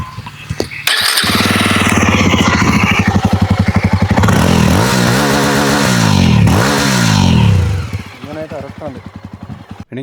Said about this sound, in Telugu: సో ఇప్పుడు ఒకసారి బండి ఎగ్జాస్ట్ నోట్ వినిపిస్తా.